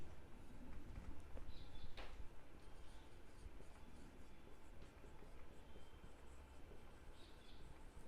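A teacher writes on a classroom board, producing faint, soft scratching strokes in scattered bursts over a quiet room hum, with no one talking.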